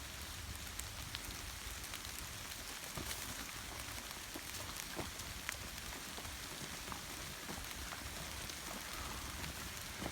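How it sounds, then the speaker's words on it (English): Rain falls steadily at an abandoned aggregate mine, a faint even patter of drops on surfaces with scattered small ticks throughout, no voices. "What a rainy day."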